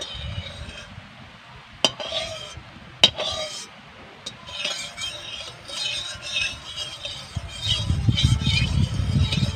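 A utensil scrapes and clinks against a hot pan while oil is spread around it before frying fish-roe fritters, with light metallic taps and soft scraping under someone talking, then a faint low sizzle building at the end.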